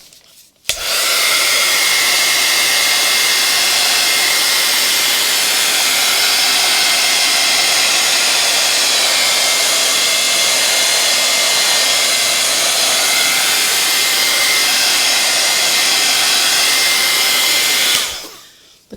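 A heat tool blows hot air over a mixed media animal portrait, a loud, steady, close rushing whoosh that switches on abruptly, runs unbroken for about seventeen seconds and then cuts off.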